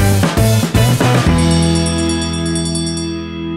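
A loud bell marks a segment of a television show, struck in a quick series of bright clangs before one long ringing tone that slowly fades.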